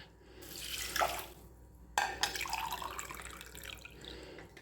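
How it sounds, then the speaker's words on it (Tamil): Water poured from a cup into a kitchen pot, two cupfuls in turn, a splashing gush that swells, breaks off briefly, then runs again for several seconds, close by and moderately loud. "2 கப்பு தண்ணி இதில் விட்டுக்கிறேன்"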